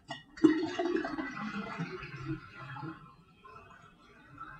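Homebrewed kombucha pours out of a glass jar in one steady gurgling stream that starts sharply, runs loud and close for a few seconds, then thins to a quieter trickle with no voices.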